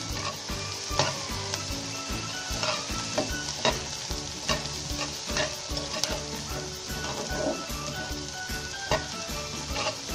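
Peeled shrimp frying with onions in a pan, a loud continuous sizzle with rhythmic spatula scrapes and clacks against the pan throughout, close up and without speech.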